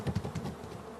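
Honey bees buzz close by near an open hive in a loud, wavering hum with quick pulses as individual bees fly past, and no one talks over it.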